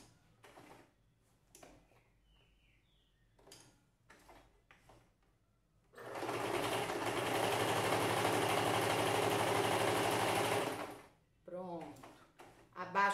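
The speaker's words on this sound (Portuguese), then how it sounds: "vou arrematar essa linha aqui com um ponto reto" A sewing machine stitching tricoline fabric runs in one steady, loud whirring burst of about five seconds, close by, framed by quiet handling noises and a short bit of talk.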